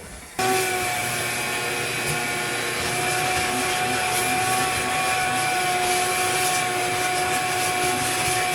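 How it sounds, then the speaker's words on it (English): A loud shop vacuum motor starts abruptly and runs steadily while cleaning the inside of an AC condenser, its high whine and airy roar holding constant throughout. "I'm going to get the vacuum and clean the inside of the condenser out."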